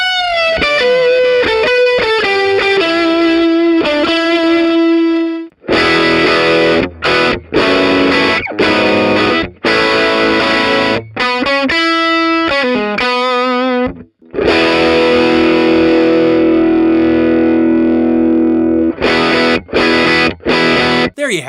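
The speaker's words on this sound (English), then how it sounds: "Hudson Electronics Sidecar. Great 808 style germanium clipping overdrive." A Hudson Electronics Sidecar 808-style germanium clipping overdrive drives an electric guitar through added reverb and delay: loud sustained chords and bursts of choppy strummed stabs with ringing tails, played alone.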